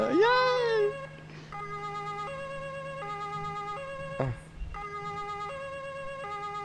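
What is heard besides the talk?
police siren in a video game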